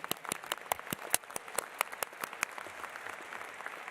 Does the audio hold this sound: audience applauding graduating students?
yes